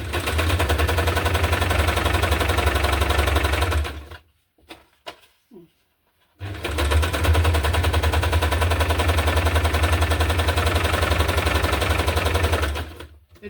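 A sewing machine runs a zigzag stitch through a hardcover junk journal in a loud, rapid, steady rattle, pausing briefly for a couple of seconds with faint clicks before the machine resumes.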